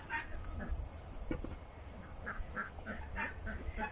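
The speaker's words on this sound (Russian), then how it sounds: "Кря-кря-кря. Уточки, уточки, уточки." Domestic ducks in a straw-bedded duck house give a run of short, nasal quacks in an irregular rhythm, fairly faint over a steady background hiss.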